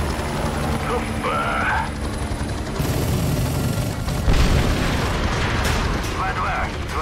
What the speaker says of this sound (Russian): Второй, начинаю обстрел.